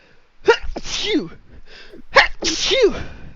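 Two sharp human sneezes, close and loud, each a breathy burst that cuts off quickly, about two seconds apart during a Dungeons and Dragons tabletop session.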